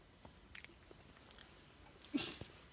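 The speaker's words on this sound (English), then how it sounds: "Only when he chews with his mouth open." Child chewing a cookie with mouth open during a father-and-sons campout, quiet close wet smacks and soft crunches in an irregular rhythm over faint background hiss.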